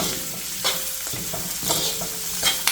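Onion, ginger, garlic and curry leaves sautéed in a kadhai for spicy kadhai chicken, with a loud, close sizzle broken by repeated scraping stirs of a spoon against the metal.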